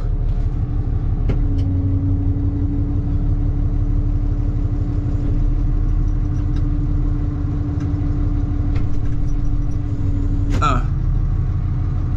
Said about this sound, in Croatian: sad ovdje traktor testiramo